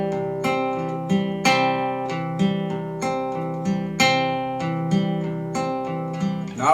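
Acoustic guitar fingerpicking a song's intro pattern, with a steady rolling arpeggio of plucked notes and pinched bass notes. It is played at an easy, even tempo, close and clear, with no voice.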